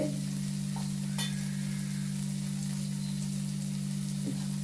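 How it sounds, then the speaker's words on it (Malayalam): Tomato and onion masala fries in a pan while being stirred, a steady sizzle with occasional scraping clicks of the spoon, close and continuous with no talking. "നല്ലോണം ഒന്ന് ഇളക്കി കൊടുക്കാം"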